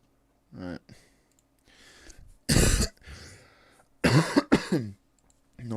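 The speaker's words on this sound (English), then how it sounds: "Not a good place to start coughing" A person coughs and clears their throat: several harsh, close bursts, one isolated and then a quick double, separated by quieter throaty vocal sounds.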